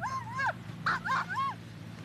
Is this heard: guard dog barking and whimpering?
yes